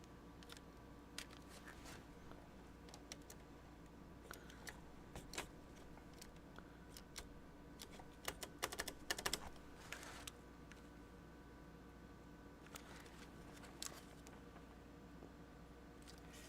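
Plastic keycaps clicking and tapping as they are pulled from and pressed onto Apple IIc keyboards, a scattered run of small close clicks over a steady low hum, no talk.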